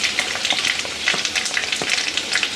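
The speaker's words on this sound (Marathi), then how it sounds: "2 ठेचलेले लसूण घालते," Crushed garlic spits and sizzles in hot oil in a wok after mustard seeds and cumin, a steady close crackle with small pops throughout.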